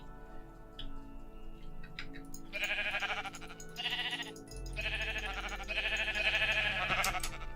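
Sheep bleating in the game Minecraft Education Edition, several short bleats in a row over a faint ticking background, fairly close and clear with no talk.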